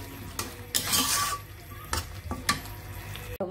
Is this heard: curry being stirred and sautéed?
yes